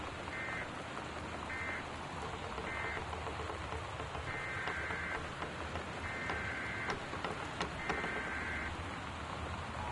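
Steady, dense rain pours during a storm in the video game Gone Home, with a constant hiss and patter, while short electronic alert tones repeat at intervals over it.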